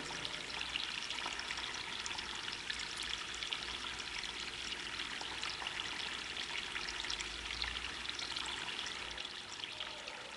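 Running water pours and trickles continuously at a low, steady level, a soft hiss with faint splashing textures and no voices over it.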